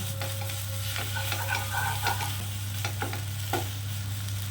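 A potato mixture for aloo chop fries in a pan, with repeated scraping stir strokes over a low sizzle and a steady, loud background hum throughout.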